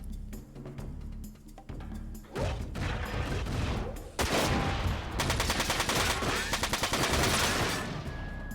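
Bursts of automatic gunfire strike a resilient building in Front Mission 4, dense rattling volleys and impacts building in intensity, loud and continuous across the scene.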